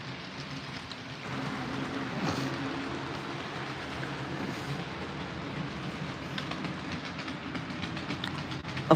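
An HO scale model locomotive runs along its track, a steady close rumble with a faint rhythmic clatter holding level throughout, without any talk.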